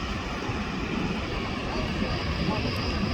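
Lufthansa 452 Heavy, a heavy airliner arriving from Munich at LAX, rumbles as a steady, loud broadband engine roar that holds throughout, with faint voices underneath.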